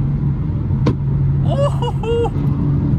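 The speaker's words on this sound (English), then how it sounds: "Oh, he's shooting flames." Ford Mustang at night, a sharp exhaust pop as flames shoot out, followed by brief revving bursts over a steady rumbling cabin drone from a passing drive.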